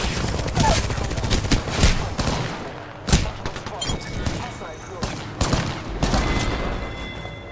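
Rapid, loud gunfire in the battle royale shooter Apex Legends, repeated sharp bursts and cracks in quick succession over several seconds, with a voice talking beneath the shooting.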